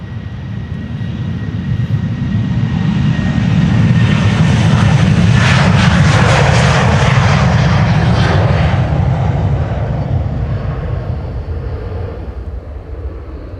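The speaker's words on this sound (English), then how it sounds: "This is KLM Flight 1353 to Prague, 737-700" A KLM Boeing 737-700, registration PH-BGM, departs Amsterdam Schiphol on a flight to Prague. Its jet roar builds steadily to a loud, broad peak at mid-clip, then slowly fades as it climbs away, with no voices.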